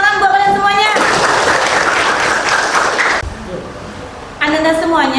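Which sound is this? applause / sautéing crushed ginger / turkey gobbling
applause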